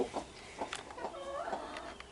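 Chickens inside a coop give soft, scattered clucks and murmurs at close range, overlapping in an irregular rhythm with no talking.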